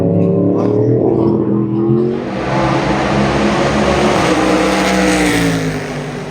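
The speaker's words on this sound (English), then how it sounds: "So we've got two V8 cars here making a lot of noise." Two V8 race cars, a Toyota Gazoo Racing Supra V8 5.0 and a TA2, roar around a track, loud and close, their engines revving and shifting pitch as they pass, with a high whine over the deep rumble.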